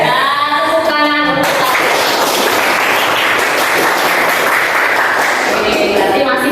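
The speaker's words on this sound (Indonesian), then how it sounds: "Nah, tepuk tangan." A classroom of students clapping their hands together, a dense, loud burst of applause that begins after a teacher speaks and then fades back into her voice.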